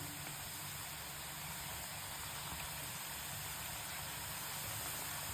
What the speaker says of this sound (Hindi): लो टू मीडियम फ्लेम पे इन्हें फ्राई करेंगे